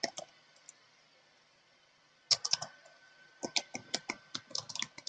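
Someone types on a computer keyboard while filling in an online police recruitment form, with a few keystrokes, a pause, then a quick run of sharp, close clicks.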